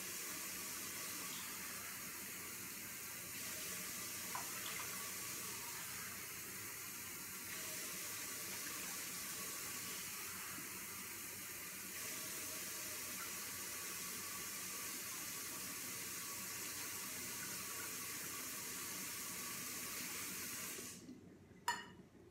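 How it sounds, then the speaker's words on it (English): Water streams steadily into a 12-quart bucket for bread dough, giving a constant soft hiss and splash for about twenty seconds before stopping with a brief clunk. "I'm going to measure out 740 grams of water."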